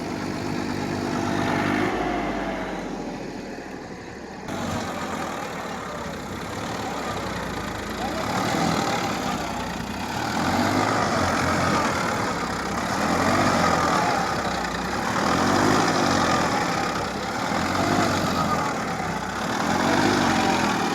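A Massey 1035 tractor strains in a field, stuck under a load of hay, its engine droning close by and swelling and easing in a repeated rhythm every couple of seconds.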